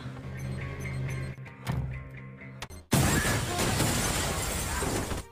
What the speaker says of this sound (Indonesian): drone itu pun lantas menembakkan sebuah peluru khusus untuk bisa menghancurkan kaca anti peluru tersebut